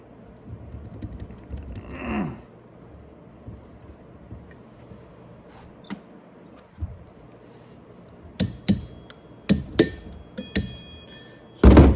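A hammer taps a socket to free a Loctite-secured bolt on a Venom 250cc Villain chopper: after a quiet stretch, several sharp metallic knocks ring out close by in quick, uneven succession.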